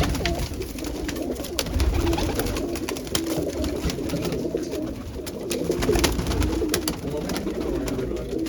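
Several large pigeons, both male and female, keep up soft, repeated low cooing close by. Rustling and sharp clicks run throughout, and a faint voice is heard at times.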